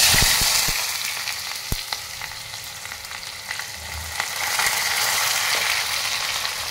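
Onion hits hot oil with mustard seeds and cumin, giving a loud crackling sizzle with scattered sharp pops and a few spoon clicks against the pan, easing slightly before swelling again, close up and without talk.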